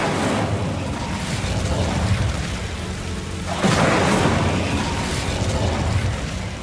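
A fiery Incendio spell blast cast in Hogwarts Legacy: a steady roaring rush with a sudden louder burst about halfway through that keeps burning afterward, with no talking.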